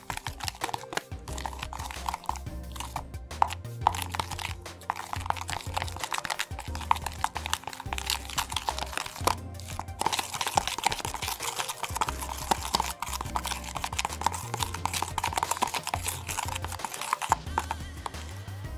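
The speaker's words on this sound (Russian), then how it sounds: "Теперь все это перемешиваем" Slime ingredients stirred together give a continuous sticky, crackling squelch of rapid small clicks, close and steady throughout, with soft music playing underneath.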